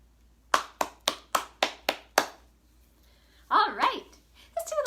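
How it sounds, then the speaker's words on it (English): A few sharp, evenly spaced hand claps, about seven in a steady rhythm, ring out close and clear during a library's online storytime, followed by a short stretch of speech. "All right, let's do a little clapping."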